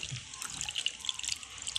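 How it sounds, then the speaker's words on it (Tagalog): A little water poured into a pot of simmering duck, a short, steady trickle and splash heard close and fairly quiet, with no talking. "Guys, pwede tayo magdagdag ng konting tubig."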